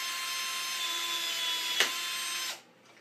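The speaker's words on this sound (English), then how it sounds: "We've got an electric pop rivet gun." An electric pop rivet gun fastens a connector into a hoop with a steady, close motor whine, a sharp snap midway as the rivet sets, then a sudden cutoff.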